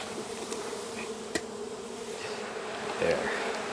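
Honeybees buzzing around an open hive during a hive check, a continuous close drone of wings with a few brief clicks and a slightly louder swell toward the end.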